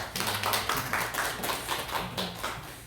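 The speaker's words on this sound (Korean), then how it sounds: "우리 한번 박수로 한번 환영합시다" A church congregation applauds during a Sunday worship service to welcome a guest from the neighbourhood, a soft, uneven patter of many hands that carries on for about three seconds in a reverberant hall.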